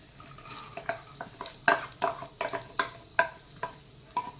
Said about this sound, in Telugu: లోపు ఆయిల్ కూడా వేడెక్కింది. ఉల్లిపాయ వేసేసుకున్నాం.